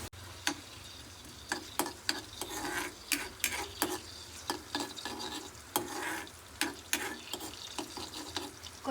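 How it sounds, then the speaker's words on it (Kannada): Coriander seeds frying in hot oil for a Konkani taro-leaf stir-fry, a soft sizzle broken by repeated sharp ticks and scrapes as a spoon stirs the pan, close by with no talk. "ಲೈಟಾಗಿ ಕೊತ್ತಂಬರಿಯನ್ನು ಫ್ರೈ ಮಾಡ್ಕೋಬೇಕು."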